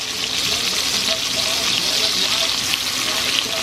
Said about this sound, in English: now I'm gonna flip my meat over so y'all can see browning